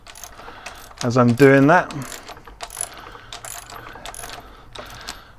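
An axle is pulled through the rear wheel of a BMW R1200 GSA motorcycle; a short, loud metallic squeal and grinding lasts about a second, then quieter clicks and taps follow while someone speaks.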